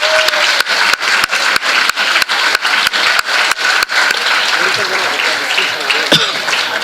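Applause at a school award function, a loud continuous patter of hands in a hall, overlaid by regular sharp thumping knocks for the first few seconds and then settling into a steadier clatter.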